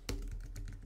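Quick, close clicks of a computer keyboard, starting with a sharp keystroke and followed by several lighter taps in under a second.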